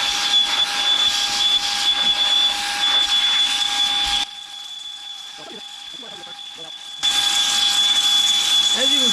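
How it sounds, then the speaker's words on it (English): A Saker 3-in-1 vacuum cleaner blows air on its low setting with a steady whooshing whine and hiss, which cuts out briefly to near silence before the airflow resumes at the same level. "it's blowing some stuff out that was underneath it. That's on low."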